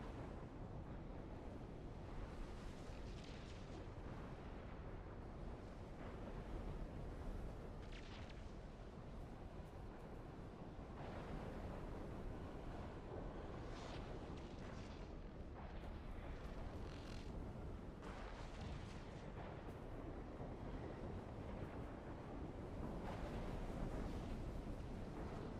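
Storm wind in the game Dune Awakening roars continuously for the whole stretch, a dense, steady rushing blast with surging gusts and no talk.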